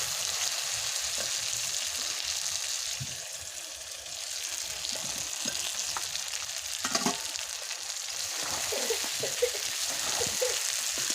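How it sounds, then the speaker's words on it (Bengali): Fried potatoes go into a pan of sizzling chicken curry. A loud, steady frying hiss runs throughout, with scattered stirring clicks and scrapes and no talk. "এখন ভাজা আলুগুলো দিয়ে দেবো।"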